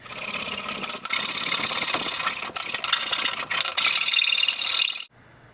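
A steady, harsh rasping of a file scraping back and forth, enlarging a rectangular hole in an ATV dashboard, with a few brief pauses, close up and loud, before it stops abruptly.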